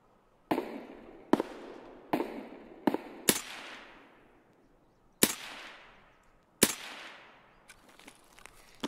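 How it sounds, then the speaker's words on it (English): Gunshots ring out in Escape from Tarkov: about eight sharp, separate cracks at irregular intervals, each trailing off in a long echoing decay, fairly distant, with a few faint pops at the end. "Someone shooting at me over here."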